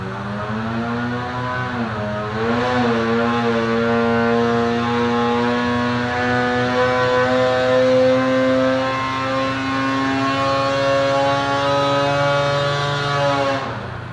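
A 2020 Polaris Axys 850 snowmobile engine with a Bikeman Stage 1 setup revs on a dyno, a loud close whine whose pitch dips briefly and then climbs and holds high for many seconds before cutting off.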